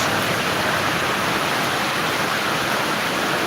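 A continuous, loud wash of strong wind and pouring rain, even and unbroken from start to finish, with no voices.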